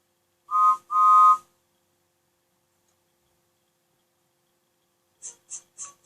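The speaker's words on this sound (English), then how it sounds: "train set off after the conductor blew his whistle." A conductor's whistle sounds as a train sets off: two short, shrill blasts close together, then a long silence and three quick faint chirps near the end, with no talking.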